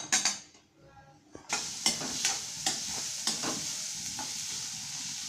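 Ingredients roasting in a pan for Mallamma Ajji's edik bele saru, a dal curry, with a spoon or spatula repeatedly scraping and knocking against the metal over a continuous sizzle, close and alone, in several distinct stirring strokes.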